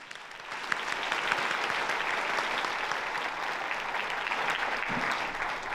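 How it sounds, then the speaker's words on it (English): Audience applause at a charity luncheon, a steady dense clapping that holds at an even level for nearly six seconds with no voices over it. "If we can give them another round of applause."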